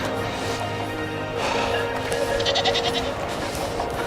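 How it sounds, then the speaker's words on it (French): A group of goats bleating on a mountainside along the Karakoram highway, several calls rising over steady wind and outdoor noise, moderately near and without speech. "Regardez un groupe de chèvres."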